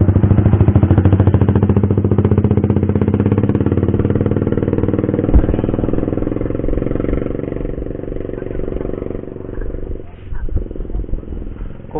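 Motorcycle engine running close by with a loud, steady rough rumble that holds throughout, wavering slightly near the end, with a few clanks.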